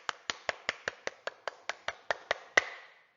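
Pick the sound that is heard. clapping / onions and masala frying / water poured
clapping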